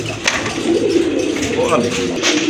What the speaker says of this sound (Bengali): খুবই চমৎকার ইউনিক এক জোড়া ছিলা Orange কবুতর